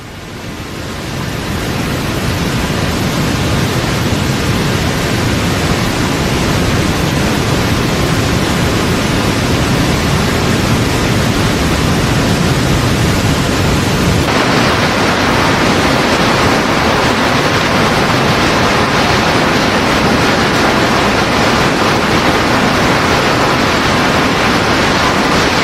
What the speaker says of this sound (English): This is the base of the falls.